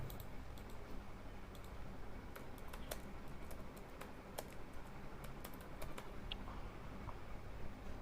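Computer keyboard typing as a website name is entered, quiet irregular key clicks in bursts over a low steady background hum, fairly close and continuous throughout.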